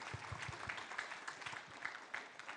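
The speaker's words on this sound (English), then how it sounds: "I would like to invite warm applause to our distinguished speakers." Warm applause for distinguished speakers at the closing plenary of the 3rd ICEF conference, a faint, distant spread of clapping with some sharper nearby claps, steady for a few seconds without talk.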